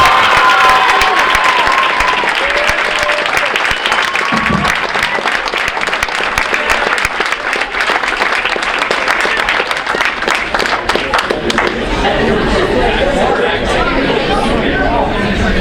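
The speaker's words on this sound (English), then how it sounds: "Round of applause for these guys." Sustained applause and cheering from an audience at a school winter varsity sports awards ceremony, honoring academic award winners, loud and continuous, with crowd chatter mixed in throughout.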